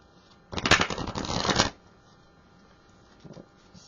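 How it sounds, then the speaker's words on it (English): A quick riffle of stiff, sticky plastic oracle cards being shuffled, a dense crackling burst lasting about a second, followed by quiet and a faint shuffle later. "we're going to try to do a proper shuffle"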